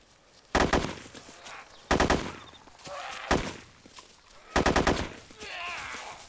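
Gunfire in the video game DayZ, four loud close bursts of rapid automatic shots spaced about a second apart, with quieter shuffling and movement sounds between them.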